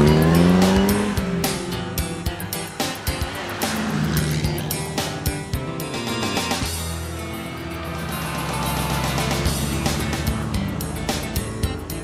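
A classic rally car pulls away at the start of a stage on the 2016 Royal Automobile Club 1000 Mile Trial. Its engine revs loudly and close by, with tyre noise, before settling into a steady drone.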